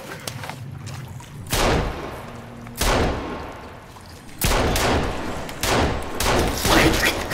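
Gunfire in the video game Sons of the Forest: several loud, booming shots spaced a second or two apart, each with a rumbling tail.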